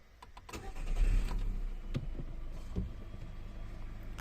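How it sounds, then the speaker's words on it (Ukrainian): A 2008 Skoda Octavia A5 with a 1.4 MPI petrol engine cranks and starts, the rough low rumble rising then settling into a steady close idle, with a brief climate fan kicking on. "все, завелась"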